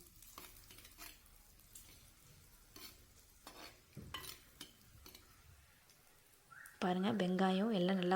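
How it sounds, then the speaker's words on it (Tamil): Chopped onions sautéing in a pan, stirred with intermittent scraping clicks under a steady low sizzle; near the end a loud sustained voice-like harmonic tone takes over. "குட்டி குட்டியாக கட் பண்ணி வச்சுருக்கிறோம்ல வெங்காயம் அதையும் சேர்த்திக்குங்க"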